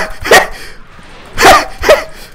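In a plush-toy war video game, a dog barks three times, sharp and close, with a pause after the first bark and two quick barks near the end.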